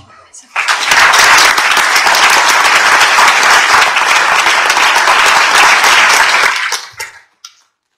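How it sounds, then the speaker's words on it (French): Audience applause at a parliamentary colloquium in Toulouse honoring aviation pioneers, loud and sustained for about six seconds, then tapering off with a few stray claps. "je pense que nous pouvons tous les applaudir"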